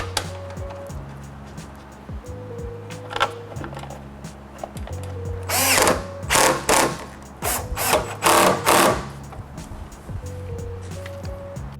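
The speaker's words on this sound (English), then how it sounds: "And now let's just reinstall the Torx bolts." Torx bolts being driven back into the interior trim of a 3rd-gen Toyota Tundra (2014-2021) with a power driver, several short buzzing bursts clustered mid-clip over a low steady hum.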